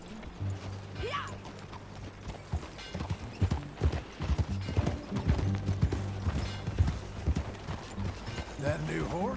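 Steady clip-clop of horse hooves on hard ground, close by, with a brief whinny and some talking mixed in.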